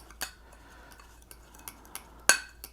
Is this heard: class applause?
no